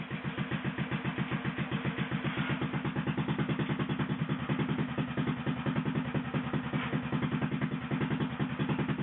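A replica of the 1888 Benz Patent Motorwagen runs in third gear, its single-cylinder engine chugging in a fast, steady, even rhythm, close and continuous throughout with no talking.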